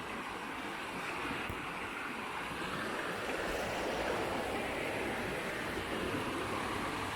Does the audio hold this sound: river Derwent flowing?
yes